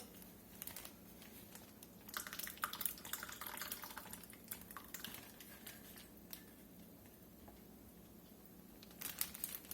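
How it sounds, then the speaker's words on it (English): Marinade is poured over steak in a Ziploc bag, heard as faint, soft liquid trickles and drips mixed with quiet plastic crinkling, close and intermittent. "Let's get this marinade poured in here."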